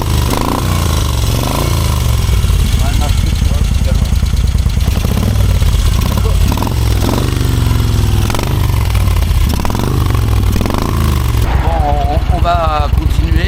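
An Italian motorcycle that has been acting up idles loudly close by, its uneven chugging engine note running continuously for the whole stretch while riders talk over it in French.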